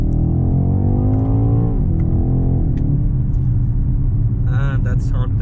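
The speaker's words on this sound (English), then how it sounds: "So let's put it into M2 mode and floor it" A 2021 BMW X6 M Competition SUV accelerating hard at full throttle, a loud steady engine roar with a rising then shifting pitch, road rumble throughout and brief sounds near the end.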